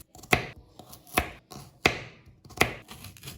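A knife chopping garlic into small pieces on a board, four crisp, evenly spaced knocks with faint scraping between them, close and clear, with no talking.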